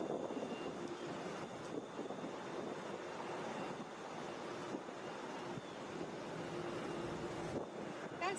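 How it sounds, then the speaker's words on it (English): A Boeing 757 airliner arriving at Hartsfield-Jackson airport in Atlanta, a broad, steady roar mixed with wind noise on the microphone, sustained throughout. "That's 629 coming from Tampa, Boeing 757."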